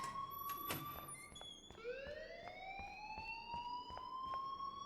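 Fire alarm wailing in Life is Strange, opening with sharp knocks and clatter before a rising electronic siren sweep takes over and holds steady, with occasional faint thuds beneath.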